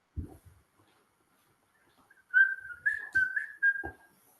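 A person whistles a short rising and wavering tune in several brief phrases, clear and fairly close, preceded by a couple of soft thumps.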